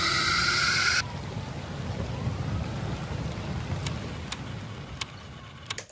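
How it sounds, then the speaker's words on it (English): Rain sound effect layered into a Christmas song remix, a steady hiss of falling rain with faint sharp ticks, following a brief burst of the mixed track at the start. "So I actually put in this rain and sirens right here."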